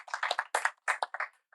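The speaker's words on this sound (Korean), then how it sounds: "큰 박수로 부탁드리겠습니다." Short, scattered bursts of audience applause greet a professor introduced as a discussant at an academic conference session on local council autonomy; the clapping is close and broken into quick clusters with brief pauses.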